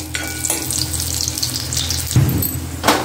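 Cashews and raisins frying in ghee, a steady close sizzle throughout with a couple of stirring scrapes, no one talking.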